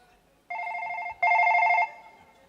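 An electronic phone ringtone warbles in two short bursts with a brief pause between them, clear and fairly close.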